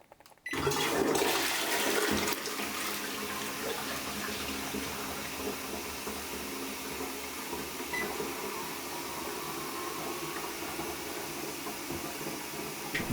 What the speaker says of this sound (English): It has a light flush and a full flush.